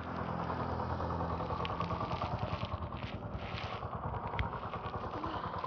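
A Yamaha XTZ Crosser 150 motorcycle engine idles close by with a steady, fast low putter and slight rhythmic pulsing throughout.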